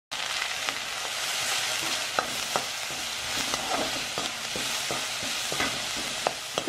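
Onions sizzle and fry steadily in a pan, a dense continuous crackle with scattered sharper pops and occasional stirring clinks, close and alone without talk.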